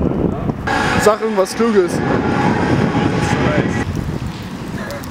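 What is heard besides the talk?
wind blowing into microphone outdoors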